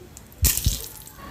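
A short splash of water pouring into a container of chutney ingredients for grinding into paste, with a couple of low thuds as it lands, close by and fairly quiet.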